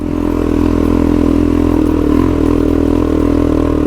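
Suzuki DRZ dual-sport motorcycle in first gear climbing a steep, loose rocky mountain track, its engine a steady loud close drone with constant rattling and clatter of the bike over the stones.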